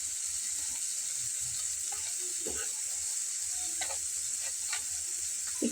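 Potato snack pieces frying in hot oil, a steady close sizzle running throughout with scattered soft clinks and scrapes of a utensil, no voices.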